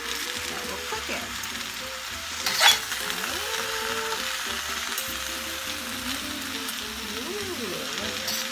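Vegetables frying in a hot pan for chow mein, a continuous close sizzle with stirring and a brief louder clatter partway through.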